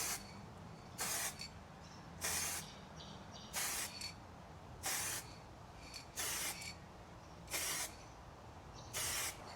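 Aerosol spray can applying a coat of paint to a 23-year-old Toyota Land Cruiser, eight short bursts of sharp hiss spaced about a second apart with quiet pauses between, close and fairly soft.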